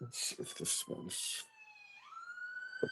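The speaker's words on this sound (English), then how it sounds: "That's the ambulance." An ambulance siren wails outdoors at a distance, a steady tone that drops and then rises in pitch, partly under nearby talk at the start.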